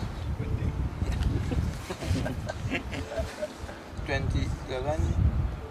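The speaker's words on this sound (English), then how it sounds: "Windy? Windy." Steady blustery wind rumbling against the microphone, with voices talking intermittently over it.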